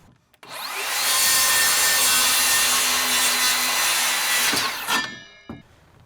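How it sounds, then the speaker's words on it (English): A power saw rips through wood at a 30-degree bevel while framing a roof ridge, a loud sustained whining cut of about four seconds that winds down and ends with a few light knocks. "We're gonna go ahead and cut that on a 30 degree the opposite way."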